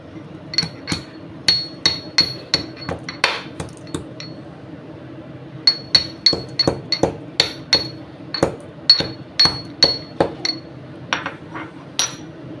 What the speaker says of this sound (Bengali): চারটে এলাচ থেতো করে দেবো।